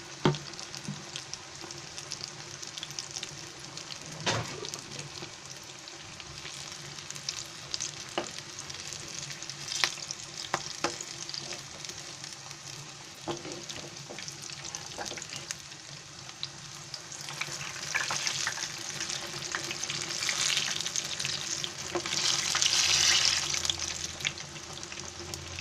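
Big green chilies frying in a pan, a soft crackling sizzle with occasional clicks and stirring scrapes, quiet and close, swelling into louder spitting bursts toward the end.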